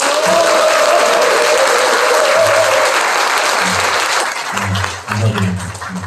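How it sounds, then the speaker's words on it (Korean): Loud applause and cheering from the audience at a Democratic Party labour committee launch ceremony in Cheongju, a dense wash of clapping with low shouts and voices rising near the end. "뜨거운 박수와 큰 함성으로 함께 해주시면 더욱 감사드리겠습니다"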